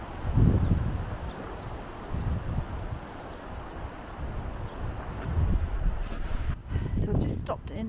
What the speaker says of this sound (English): Oh, she windy. It's windy here.